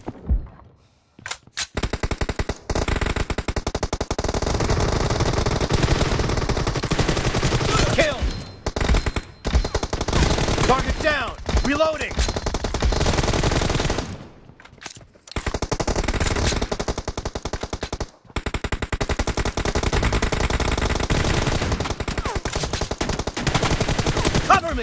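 Sustained bursts of M416 assault rifle fire in the shooter game PUBG Mobile during a team deathmatch, loud and near, with rapid automatic volleys broken by a few brief pauses and short gaps.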